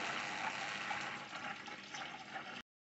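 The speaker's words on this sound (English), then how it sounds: "This time you want to get until it's pouring pure beer." Beer streams steadily from a bar tap while line cleaner is flushed out, a continuous close gushing pour that cuts off abruptly near the end.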